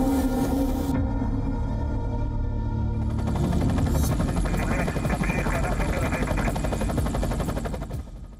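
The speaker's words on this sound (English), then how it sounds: "A helicopter" A helicopter flies over a war zone in Rafah, its rotor a loud, continuous throbbing chop that fills the clip and fades slightly at the end.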